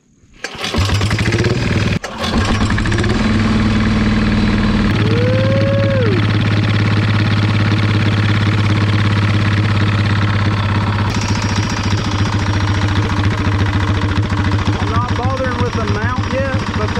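A 199cc diesel go-kart engine with a new exhaust stack cranks and fires after a couple of seconds, then settles into a loud, steady, knocking idle with a brief rev. Talk is heard over the running engine.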